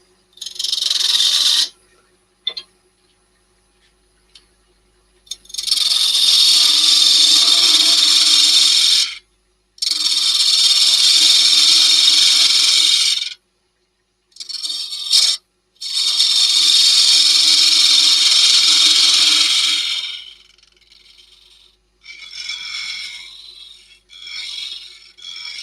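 A wood lathe shapes a small wooden box lid with a basic profile, giving loud bursts of cutting and scraping from the gouge. Each burst lasts several seconds, split by short pauses, and fainter scraping follows near the end.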